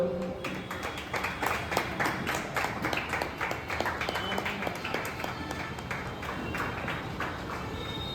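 A crowd at a cricket team prize-giving claps continuously, a dense, even patter of many hands held at a steady level throughout, with a voice faintly heard beneath it.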